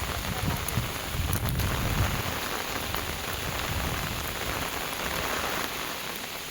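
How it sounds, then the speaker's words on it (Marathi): Heavy monsoon rain pours over rice paddies in the Konkan countryside, a dense, unbroken hiss of drops on water and soil, loud and close, with no voices and only faint hints of distant thunder. "आता पाऊस चांगला पडतो आहे"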